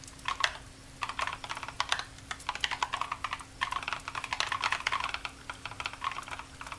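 Fingers clatter across a computer keyboard in quick, uneven bursts of keystrokes with short pauses, close and clear with no voices.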